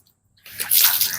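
Water scooped from a pit splashes and gushes suddenly after a moment of silence, a brief close watery rush with no voices.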